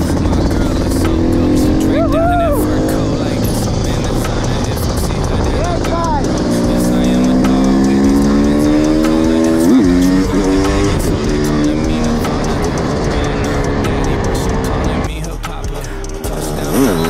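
A 500 CR motorcycle set up as a supermoto roars loudly on the road, its engine note climbing and dropping through gear changes and revs, close and continuous with wind noise.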